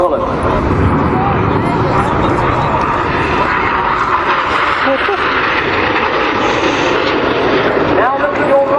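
Red Arrows jet aircraft at the Sunderland International Airshow, a loud continuous roaring engine wash that fills the whole stretch, with a commentator talking over it.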